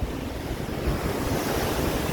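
Sea waves break on a Ratnagiri beach in a continuous, loud surf roar, with wind buffeting the microphone throughout and no voices.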